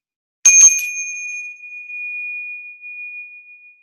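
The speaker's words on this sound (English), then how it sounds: "I have this beautiful bell from Bali. Can I ring it?" A single high-pitched bell from Bali is struck once, giving a bright attack that settles into a pure, sustained ring and slowly fades over several seconds, heard close and alone.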